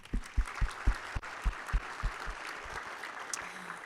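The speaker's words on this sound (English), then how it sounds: "join me in one more round of applause for all of our President's Table" Applause at a business luncheon for guests at the head table, heard as scattered, fairly distant claps with a few sharper nearby ones, thin and moderately quiet, fading out after a few seconds.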